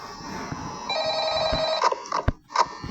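A telephone rings in a room: a repeating electronic trill starts about a second in and pulses several times at close range, cut off by short knocks and clicks near the end.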